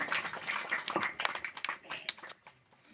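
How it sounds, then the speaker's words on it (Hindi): Scattered, fairly faint applause from an audience at a Kanshi Ram 91st birth anniversary gathering in Semariya, Rewa, the claps thinning out and fading away by the end. "राजकुमारी के लिए जोरदार ताली"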